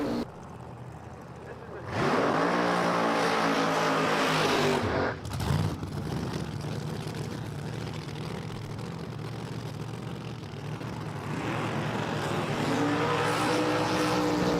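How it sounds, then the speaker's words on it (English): Drag racing car engines roar loudly as tires spin and screech in a burnout at a dragway, a sustained high-revving blast that drowns out a voice speaking underneath. "You cannot hear me when these cars are doing burnouts"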